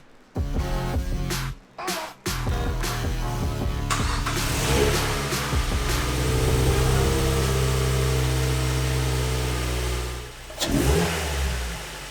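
A Mazda NC Miata engine fitted with a cold air intake starts and revs hard several times, rising to a loud, sustained roar with a throaty intake sound, then settles and blips again.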